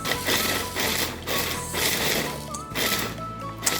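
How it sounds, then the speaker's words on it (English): A food processor grinds a cooled tart base with coconut, a loud rough churning that surges and dips in several pulses. "just break it up into your food processor along with your coconut"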